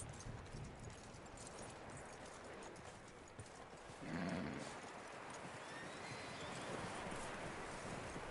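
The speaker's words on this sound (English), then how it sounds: "That looks like a decent horse." Horse hooves clip-clopping in the video game Red Dead Redemption 2, a steady rhythmic plodding under a dense, constant wash of game ambience, moderately close and continuous throughout.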